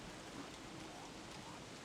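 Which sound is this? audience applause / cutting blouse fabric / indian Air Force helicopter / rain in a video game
rain in a video game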